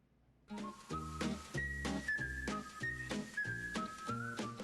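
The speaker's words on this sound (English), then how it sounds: "You hear the whistle" The Andy Griffith Show whistled theme tune: a melodic whistled tune carried over a steady instrumental backing with a bouncy rhythmic bass, bright and clear throughout.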